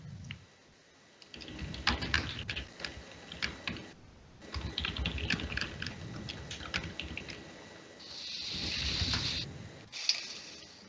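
Fast clattering keystrokes on a computer keyboard come in close, uneven bursts with short pauses between, and no one speaks.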